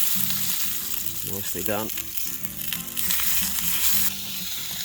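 Fat trimmed from meat sizzles loudly in a hot pan at home, a dense, steady frying hiss that runs throughout, with a few utensil scrapes and a brief spoken remark over it.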